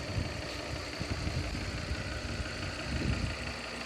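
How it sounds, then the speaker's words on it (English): A 1998 Lancia Kappa 2.0 20v idles steadily with an even low rumble, heard close and alone throughout without any talk. "I'll turn the engine off first so we don't need to run it because fuel is precious at the moment."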